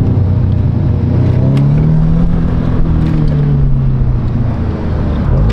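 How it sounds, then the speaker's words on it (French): An Audi S3 engine revs loudly and close by, a sustained heavy roar whose pitch rises and then eases off, as in a spool with the throttle pressed and released. "Quand je fais un spool, j'accélère puis je lâche"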